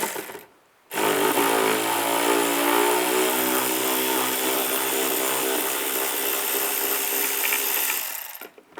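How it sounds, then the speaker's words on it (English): Power tool with a T25 socket backing out screws on a 2004-2010 BMW X3 during shock absorber replacement, a loud close steady whir lasting about eight seconds after a brief quiet start. "Use a T25 socket. Take those out."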